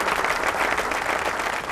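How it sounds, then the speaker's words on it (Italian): An audience at the Ancona Collezioni 2015 fashion event in Ancona claps in sustained, thick applause, a continuous wash of hands that holds level from start to finish. "Ecco, un applauso perché se lo merita."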